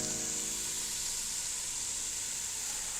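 Spinach, tomatoes and beans sizzle in a hot pan for pasta with greens and beans, a steady bright hiss that continues evenly throughout.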